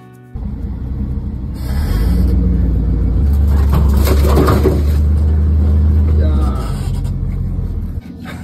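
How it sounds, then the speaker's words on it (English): An old junk trash truck rumbles out of a property, its engine droning low and steady while metallic scraping and grinding rise along its side in the middle of the pass, close and loud, with someone talking over it. "Fucking just scratch the shit out of the side of the truck."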